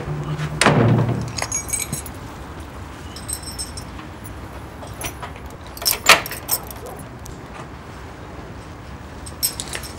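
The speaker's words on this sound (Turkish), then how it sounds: "Kapıyı sen kilitlesene." Keys jangle as a house door is locked, a sharp metallic rattle near the start followed by softer clinks and a few more jingles later, all fairly close against a quiet room.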